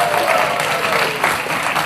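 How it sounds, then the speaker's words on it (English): Audience applauding a contestant at an outdoor chilli eating contest in Dorset, a lively, continuous burst of clapping with a few louder claps rising from the mass, some talk mixed in. "Give him a round of applause for that."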